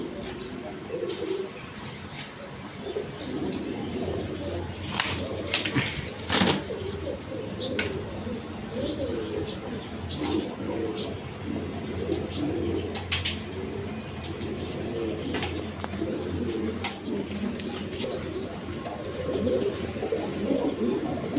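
Red-coloured Gorra pigeons coo steadily at close range, a dense layered murmur of overlapping calls with a few sharper wing or cage knocks mixed in.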